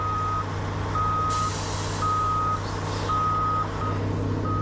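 A big truck with a long trailer backs onto a waste tipping floor, its reversing alarm beeping in steady, evenly spaced pulses over a loud, constant diesel rumble, with a brief hiss of air partway through.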